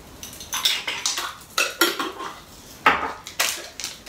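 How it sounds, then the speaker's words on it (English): Emulsifying wax granules are measured out with a metal spoon and dropped into a container, giving a string of close, sharp clinks and scrapes in irregular bursts with no talking. "So I'm gonna add half a teaspoon of emulsifying wax."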